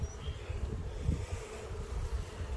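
A steady low buzzing of many honey bees in a hive opened for inspection, close by, a continuous hum with slight swells and no voices.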